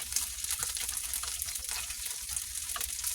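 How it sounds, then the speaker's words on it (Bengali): Loach fish fry in a pan, a dense, continuous sizzle and crackle close up, with no talking. "মাছগুলোকে এভাবে উল্টে পাল্টে ভেজে নিতে হবে।"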